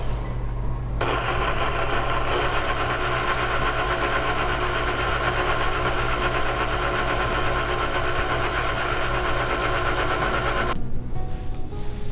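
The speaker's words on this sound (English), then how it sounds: "we're going to beat that till soft peaks form" An electric stand mixer whips heavy cream toward soft peaks for a chocolate mousse cake. Its loud, steady motor whir starts after about a second, runs without a break and cuts out near the end. No one speaks.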